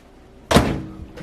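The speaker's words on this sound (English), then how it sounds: "It means the door is actually shutting" A single solid thunk of a microwave door shutting, close and fairly loud, with a brief rattle fading after.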